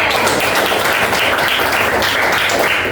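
A room full of people claps steadily, a dense, even wash of applause that continues without pause.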